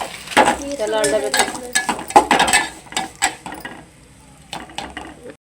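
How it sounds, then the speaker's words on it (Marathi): A spoon clatters and scrapes against a small metal pot in irregular bursts while stirring kheer, close and fairly loud, fading out toward the end. "छोट्या पातेल्यात केल्यामुळे हलवताना खूप खडखडा असा आवाज येतोय"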